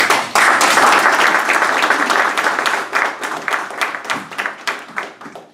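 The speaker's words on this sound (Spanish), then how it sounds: "le cedemos la palabra con un fuerte aplauso" An audience at a lecture on the Russian Revolution breaks into loud, dense applause that starts abruptly, holds steady, then thins into scattered claps as it dies away.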